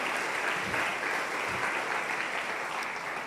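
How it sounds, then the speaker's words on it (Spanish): A church congregation claps steadily during a Sunday service, an even, sustained wash of applause at moderate level with no voices over it. "Denle un aplauso al Señor con todo su corazón."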